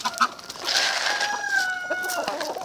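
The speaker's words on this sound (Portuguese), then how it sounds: "Estão lá no viveiro cantando." An Índio Gigante rooster crows in an aviary, one long drawn-out call held for about two seconds, fairly close and clear over faint background clucking from other fowl.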